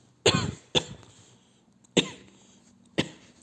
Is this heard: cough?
yes